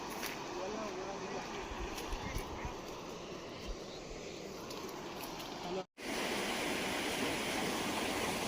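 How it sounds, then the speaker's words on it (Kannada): Dhaba Dhabi waterfall at Sedam ghat roars as a steady, loud, broadband rush of falling water, briefly cut by a short gap near the end before the dense torrent resumes. "ಇವಾಗ ಇಲ್ಲಿ ನೋಡಿ ವಾಟರ್ ಫಾಲ್ ಎಷ್ಟು ಮಸ್ತ್ ಇದೆ"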